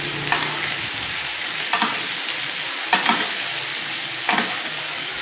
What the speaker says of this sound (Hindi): ये ऐसे फ्लेम को अभी मज़ीद हम क्योंकि हाई कर रहे हैं कि ये सॉस भी मेरा गर्म होता जाए